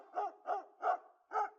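A dog barks four times in a steady, evenly spaced rhythm, each bark close and clear with no other sound between them.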